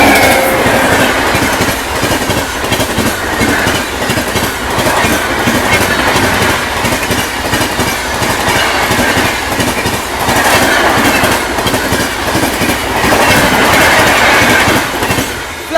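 The Guwahati–New Delhi Purvottar Sampark Kranti Express rushes past at speed, a loud, continuous roar of wheels with rhythmic clickety-clack over rail joints and occasional faint squeal, close by throughout.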